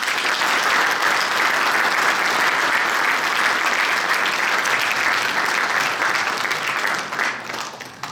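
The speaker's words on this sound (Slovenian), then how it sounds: "dajmo jim še en aplavz, prosim" An audience at an asphalt association award ceremony in Slovenia claps in loud, sustained applause that holds steady for several seconds before tapering off near the end.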